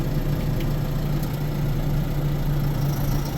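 A tractor engine idles with its PTO engaged, a steady low mechanical hum with a constant droning tone, close and even throughout.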